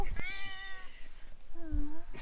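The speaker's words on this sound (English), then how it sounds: "There's a kitten!" A kitten at a Mt Pulag campsite in Benguet, Philippines gives a few close, clear meows, with a short pause between them and faint outdoor background.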